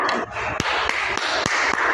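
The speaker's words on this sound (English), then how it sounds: "Give yourselves a clap." A classroom of students claps together for themselves in a steady rhythmic beat, sharp claps repeating about every quarter second over a busy room murmur.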